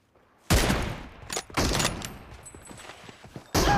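Gunfire from an online shooter game during a headshot exchange: loud, rapid bursts of shots separated by short pauses, with a heavy volley at the start and another at the end.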